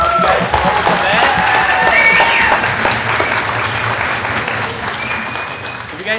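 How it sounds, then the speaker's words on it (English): An audience at an engineering day keynote event bursts into loud, sustained applause, with dense clapping and some cheering filling the hall for several seconds before slowly thinning out. "give these people a round of applause"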